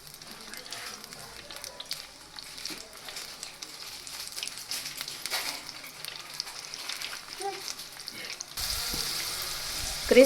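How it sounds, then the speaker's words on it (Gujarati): Chili ring bhajiya fry in hot oil, a soft sizzle that gradually grows louder and busier, swelling into a bright, dense crackle near the end. "અને ક્રિસ્પી થાય ત્યાં સુધી આપણે તેને તળી લેશું."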